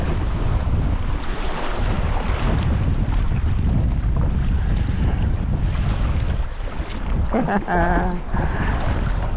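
A small boat pushes through swells on a gusty lake in Algonquin, with strong wind buffeting the microphone and steady water wash throughout, and a brief burst of a voice near the end.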